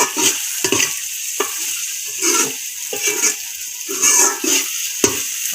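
Onions and tomatoes fry in a pan for fish curry gravy, a near, bubbling sizzle broken by short stirring bursts and scrapes, with no voices.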